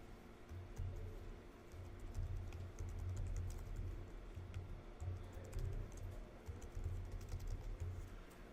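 Rapid keystrokes on a computer keyboard tap out a steady, uneven patter of soft clicks for several seconds, close and quiet with a faint low hum underneath.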